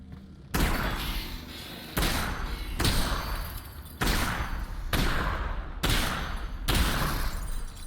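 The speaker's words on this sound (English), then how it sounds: "That took a lot of shots." Gunshots in Half-Life: Alyx, a series of about six loud, sharp blasts spaced roughly a second apart, each followed by a lingering noisy tail, with no talk.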